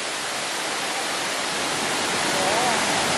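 Bushkill Falls in Pennsylvania roars as a steady, dense rush of falling water, loud and continuous with no break.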